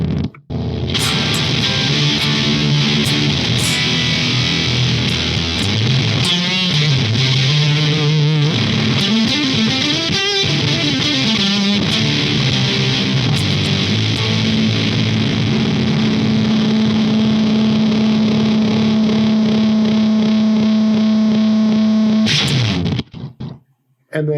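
Electric guitar played through a Shields Blender fuzz pedal, thick saturated distortion with sliding bends and wobbling notes, then a long sustained droning tone before cutting off abruptly near the end.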